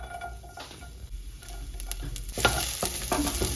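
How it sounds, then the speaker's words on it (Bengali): Garlic fries in hot mustard oil while being stirred, a close sizzle that starts low and swells louder partway through, with light scraping strokes. "তেলটা একটু গরম হয়ে গেলে রসুনটা দিয়ে দেবে।"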